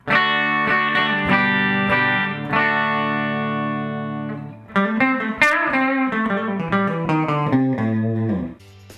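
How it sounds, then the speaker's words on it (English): A clean electric guitar plays sustained chords, then a run of plucked notes, through a Fender Twin Reverb '65 reissue tube amp with the bright switch off, warm with rich harmonics and no voices. "my clean tone is going to be my Fender Twin Reverb 65 reissue amp"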